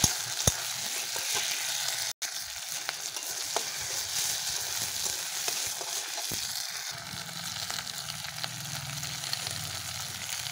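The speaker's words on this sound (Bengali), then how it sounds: "এবার দিয়ে দেবো বাটা মশলাটা। একটু নেড়ে পুঁই শাকটা দিয়ে দেবো।" Ground masala paste and malabar spinach stirred in a hot frying pan, a continuous sizzle with scraping spatula strokes and occasional clicks, close and steady, with no voices.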